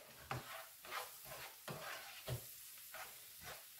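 A spoon stirs flour into hot fat in a pan for a charcutière sauce, with about eight rhythmic scraping strokes over a steady soft sizzle, close and fairly quiet.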